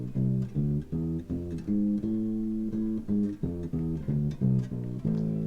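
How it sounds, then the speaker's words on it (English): Bass guitar plays a harmonic minor scale as a clear run of distinct plucked notes, each sustained briefly with a steady rhythm, alone with no voice. "It's called the harmonic minor scale,"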